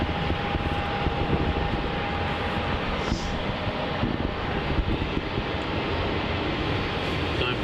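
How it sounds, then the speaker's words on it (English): Jetstar flight JQ 568 takes off on runway 27 at Melbourne Airport, a steady, loud jet-engine roar with a faint tonal whine, while someone talks over it. "So we've got a takeoff on runway 27. JQ 568 about to take off to Brisbane."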